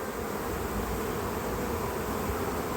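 Dense, steady honeybee buzz from a colony being checked for overwintering, a close and continuous hum with no pauses and no voices.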